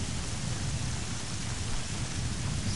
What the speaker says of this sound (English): rain hits and puts the fire out.